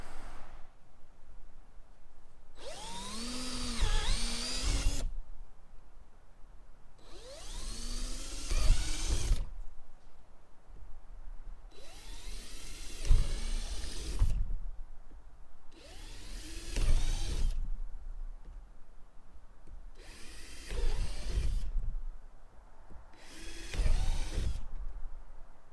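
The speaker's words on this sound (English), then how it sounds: "So I'm going to drill these holes out" A power drill bores holes through a homemade backpacking gear sled in six separate bursts, each a few seconds long, winding up and down with quiet gaps between, close and loud with no talking.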